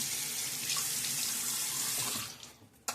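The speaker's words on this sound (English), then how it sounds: "get my face wet one more time." Tap water runs steadily into a sink as someone wets their face between passes of a straight-razor shave, a constant broadband splash that tapers off near the end.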